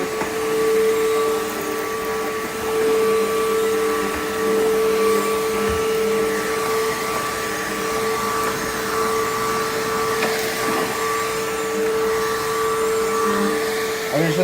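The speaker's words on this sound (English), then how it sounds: "I usually vacuum it in different directions just because to remove any stubborn particles" A vacuum cleaner drones steadily up close, its whining motor tone holding constant while the brush rumbles and shifts over the floor.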